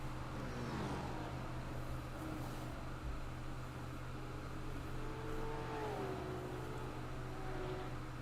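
Supercars Gen3 race cars circle Richmond in a racing video game, their engines whining faintly at a distance with pitches that rise and fall over a steady roar.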